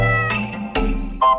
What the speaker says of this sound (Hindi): बिल्ली की आवाज सुंदर लड़की जैसी लग रही है।